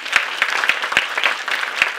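At an inter-school high school pleading contest, the audience claps steadily and close by, with sharp individual hand claps standing out in the dense applause and no talk over it.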